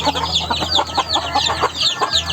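Several chickens cluck and chatter close by in a busy, overlapping stream of short calls, with a low hum running underneath.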